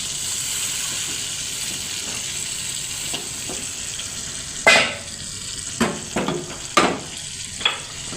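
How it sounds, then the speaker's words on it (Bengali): Meat pieces dropped one by one into a fried spice paste, giving sharp bursts of sizzle over a steady low hiss of hot oil, with several distinct loud spurts in the latter half and no talking. "এখন আমি একে একে মাংসটা দিয়ে দিচ্ছি।"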